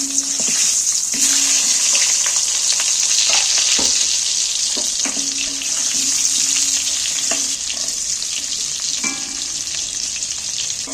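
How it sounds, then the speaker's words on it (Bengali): Potato pieces frying in hot oil, a loud close, continuous hissing sizzle with intermittent clatters and scrapes as the pieces are stirred and turned. "এই তেলের মধ্যে সর্বপ্রথম আলুগুলো দিয়ে দিলাম"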